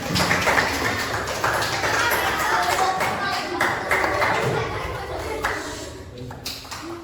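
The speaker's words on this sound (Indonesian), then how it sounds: "Tepuk tangan buat Alfal." Brief applause in a classroom, a burst of scattered clapping from pupils heard close and fairly loud, mixed with a teacher's voice and room noise, tapering off toward the end.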